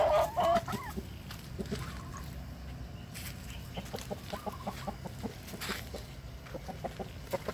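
Backyard chickens in hot weather cluck in short repeated calls, fairly close, with some scattered rustling in the background and brief human calling near the start.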